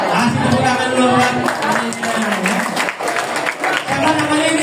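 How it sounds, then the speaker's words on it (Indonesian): A primary school class claps for a classmate, a fairly loud burst of applause that holds steady for several seconds with children's voices mixed in. "Kasih tepuk tangan dulu buat"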